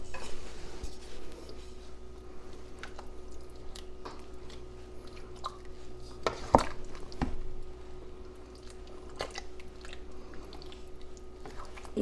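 Sloppy joe mixture being stirred in a pot, soft wet squishing and scraping with occasional sharp clinks of the spoon against the pot's side, close and fairly quiet.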